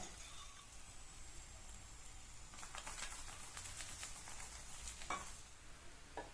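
A chapati sizzles faintly on a hot pan after oil is applied, a soft hiss joined by brief crackles and a few light scraping touches midway, very quiet and close, with no speech.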